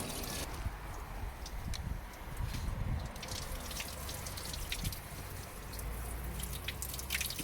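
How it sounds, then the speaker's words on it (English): Water back-flushing through a garden hose pipe, a close, steady wash of splashing and trickling with scattered drips, no voices. "put the hose pipe in this way and sort of back flush it as well, and that'll sort of wash any lodged dirt out the other end"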